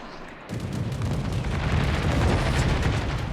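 Defensive gunfire from an aircraft in a WWI flight game, a dense, loud rattling burst of shots that kicks in after a quiet moment and continues steadily to the end.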